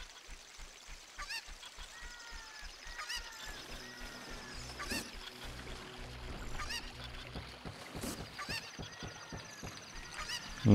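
A cucco chicken in The Legend of Zelda: Ocarina of Time clucks and squawks in repeated honking calls over game sounds and a pulsing background, faint and close.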